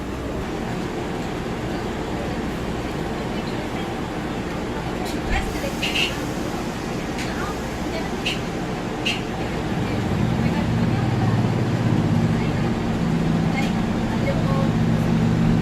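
Train departing Coventry Arena station toward Bedworth: a steady low rumble that swells and grows louder in the second half as the train pulls away, with a few brief clanks and a narrator speaking over it.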